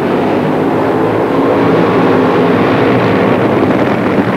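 Nitro-burning 2,000-horsepower Funny Car drag racing engines at the 1979 NHRA US Nationals in Indianapolis fill the air with a loud, unbroken roar that holds steady for the whole stretch, with no voices over it.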